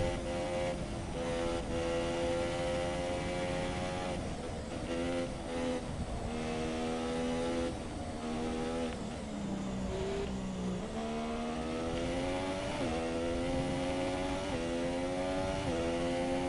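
Formula 1 race cars at the Chinese Grand Prix in the video game F1 2017 give off a continuous high-pitched engine whine that rises and falls with gear changes, loud and steady throughout with no speech.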